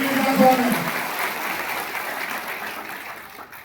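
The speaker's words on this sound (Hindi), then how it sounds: "एक बार जोरदार ताली से स्वागत करें" A burst of clapping from an audience at a political gathering, fairly close and moderately loud, fading gradually over a few seconds.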